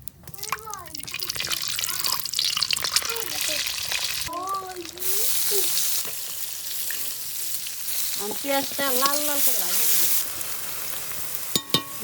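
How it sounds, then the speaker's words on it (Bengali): Oil sizzles steadily in a hot wok set up for an egg curry, a loud close hiss running through the whole stretch, with someone talking over it much of the time and a sharp clatter near the end. "কড়াই গরম হয়েছে তেল দিয়ে দিলাম"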